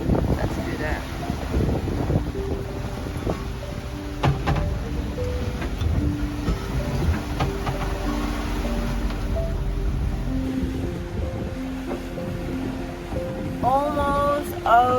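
Big ocean waves wash and slosh around a sailing boat in high seas with little wind, a continuous rough rush of water and wind noise, with creaks, knocks and brief tonal sounds from the boat.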